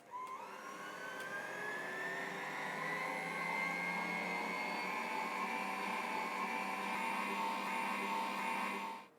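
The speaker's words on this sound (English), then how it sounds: "We've got all the dry ingredients here in the bowl of the mixer with the paddle attachment" Stand mixer fitted with a paddle attachment churning dry ingredients and melted butter into a crumble: a steady, even motor whine that climbs slightly in pitch at the start and then runs constantly until it cuts off, with no talking.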